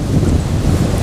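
Steady wind roars across the water during a fishing trip on a choppy lake surface, making a continuous low rumble with no talking.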